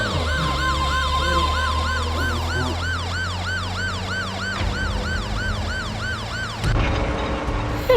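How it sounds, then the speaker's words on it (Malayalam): A loud wailing siren cycles rapidly up and down, steady and close, over a low engine rumble, cutting off abruptly near the end. "സൈറൻ കേൾക്കുന്നുണ്ട്"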